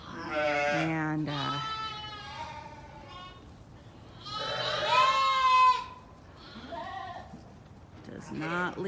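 Sheep and newborn lambs bleat in a pen on a dairy sheep farm, several calls heard close up and repeated across the clip, with a few shorter cries between them.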